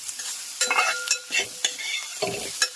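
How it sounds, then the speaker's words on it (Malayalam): Pieces of old-style Kerala beef curry with ground garam masala stirred in a pot, giving a soft continuous sizzle broken by several close scraping and clinking strokes of a spoon against the vessel. "അതും കൂടി ഇട്ടിട്ട് ഇങ്ങനെ ഒന്ന് മിക്സ് ചെയ്ത് കൊടുക്കുവാണ്"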